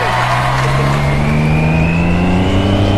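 Triumph Street Triple R 675 motorcycle with a quickshifter and aftermarket exhaust revving hard while riding, a loud, steady engine howl rising in pitch, close up and alone.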